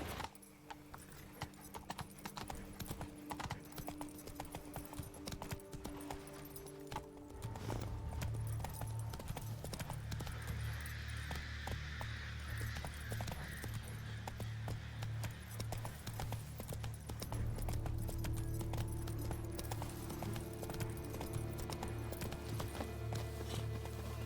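The horse Roach gallops in The Witcher 3: Wild Hunt's Blood and Wine, with a quick, continuous clip-clop of hooves over a low ambient rumble that deepens midway.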